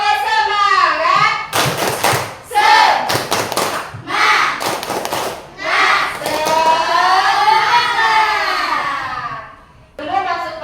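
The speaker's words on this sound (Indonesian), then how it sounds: "Tepuk semangat." Schoolchildren in a classroom perform the rhythmic tepuk semangat spirit clap, loud patterned bursts of clapping and thumps alternating with children chanting in unison.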